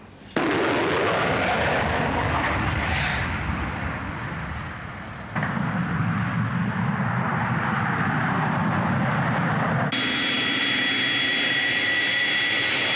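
A fixed-wing airplane's jet engines roar steadily and loudly after a flight, with a broad rushing drone that dips briefly and then swells, and a high whine joins in toward the end. No voices.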